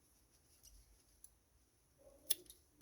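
Scissors snipping off excess crochet yarn from a t-shirt yarn bag, a faint quiet moment followed by one crisp close snip near the end.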